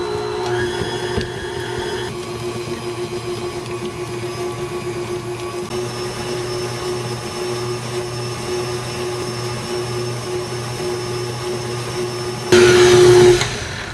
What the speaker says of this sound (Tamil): ஸோ நான் மீடியம் ஸ்பீடில் பீட் பண்ண போகிறேன்.